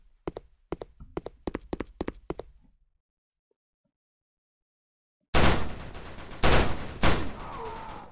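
Rifle fire in a Unity-made shooter game: a rapid burst of sharp, evenly spaced shots, then silence, then a loud dense barrage of overlapping gunfire and noise, with no talking.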